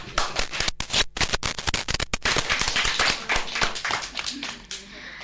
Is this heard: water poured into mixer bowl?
no